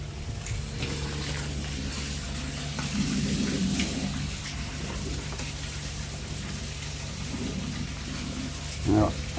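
Water pouring into a koi pond on a koi farm during a water change, a steady broadband splashing rush that stays constant throughout, with faint low background hum and a brief thump near the end.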